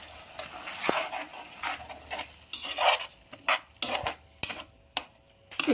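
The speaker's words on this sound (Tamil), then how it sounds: "நம்ம அரைச்ச விழுதை இப்போ சேர்த்துக்கலாம்" A ground paste goes into a sambar pot and gets stirred, with a spoon scraping and clanking against the metal pot amid soft sizzling, several sharp knocks standing out; no talking.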